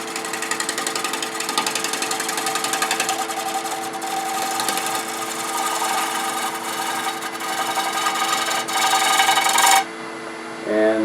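A negative rake scraper cuts a spinning wood workpiece on a lathe with a steady, dense buzzing rasp that runs for about ten seconds. It stops abruptly, and a lower motor hum is left behind.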